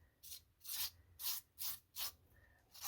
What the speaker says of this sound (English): What I want to do is put down just a little bit of like scraping,